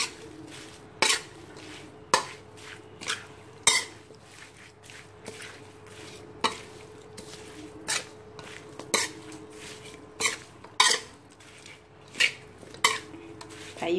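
Fish mixture with fermented fish sauce being stirred for a Lao-style steamed minnow dish with dill: a spoon knocks and scrapes against a pot in an irregular run of sharp clinks over a faint steady background, close and moderately loud.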